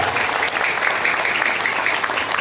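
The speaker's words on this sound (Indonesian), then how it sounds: "Tepuk tangan untuk pesantren Hujjatul Islam." An audience at a year-end graduation gathering of Pesantren Hujjatul Islam, an Islamic boarding school, claps loudly and steadily in a dense, unbroken wash of applause.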